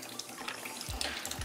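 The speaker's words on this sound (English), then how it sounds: "you can see we're getting a lot more coolant flowing through the system" Coolant drains from a 2009 Yamaha R6 motorcycle as a steady close-up splashing trickle, the flow growing heavier with brief gurgling surges.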